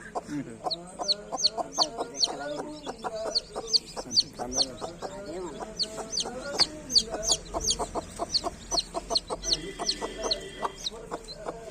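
Domestic hen clucking steadily with her young chicks, repeated rhythmic clucks close by mixed with thin high peeping from the chicks throughout, other fowl faintly in the background.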